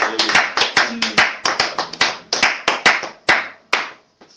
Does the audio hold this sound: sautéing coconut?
no